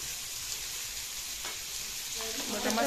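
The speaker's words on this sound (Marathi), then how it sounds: "तर मासे छान मम्मी असे परतून घेणार." Fish browning in a hot pan at home gives a steady, close sizzle, a continuous hiss with faint stirring near the end and no voices.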